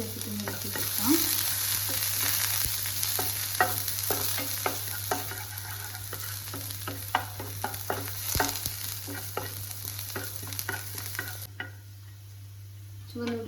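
Sliced shallots fry in oil after the mustard seeds have spluttered: a continuous close sizzle with repeated scraping stirs of a spoon in the pan, before the hiss drops away near the end.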